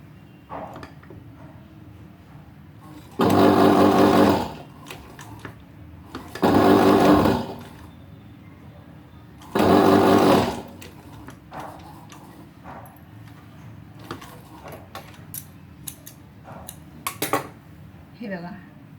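Sewing machine stitching a flower onto a boat-neck blouse neckline: three short, loud whirring runs of a few seconds each, separated by quieter pauses with small clicks and handling noises.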